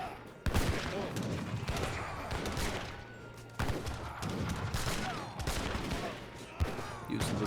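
Town center gunfire in Age of Empires III rattles in rapid volleys of overlapping shots, loud and dense, with sharp fresh bursts recurring every few seconds amid battle noise.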